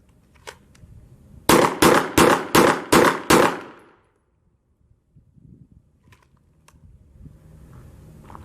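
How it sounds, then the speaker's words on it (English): Six sharp gunshots fired in quick, even succession by a standing shooter at targets on a range, loud and close, followed by quiet with faint distant noises. "you'll engage the targets with 6 rounds standing in a time limit of 10 seconds"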